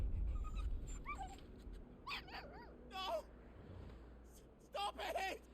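A dog whimpers and yips in Final Fantasy XVI, thin rising and falling whines in short bursts over game music and effects, with voices partly overlapping.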